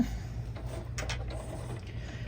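A sewing machine back-stitches a fabric key fob, giving a brief, quiet mechanical whir with a low motor hum and faint ticking of the moving parts.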